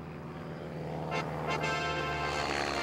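A steady broadband roar of an airplane high overhead, with a faint pitch shift as it passes, heard from outdoors on a busy day, with no talk.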